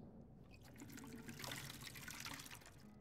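Water trickles and pours as it is refilled in the Skyrim video game, a soft continuous liquid splash and dribble, faint and without talking.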